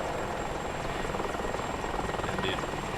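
A helicopter in the DCS flight combat game, whose dense rotor drone fills the mix with a fast rhythmic pulsing beat and a thin steady whine above it, loud and continuous throughout.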